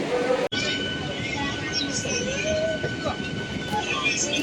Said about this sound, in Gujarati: મિત્રો ફાઇનલી આપણે ટ્રેન ઉપડી છે.